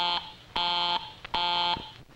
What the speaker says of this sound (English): you may hear the busy signal